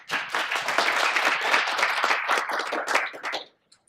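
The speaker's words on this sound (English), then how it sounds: "So let's give them a round of applause" A conference audience applauds speakers at a data science talk, a burst of brisk close clapping that holds steady and then tapers off sharply into near silence with a couple of last claps.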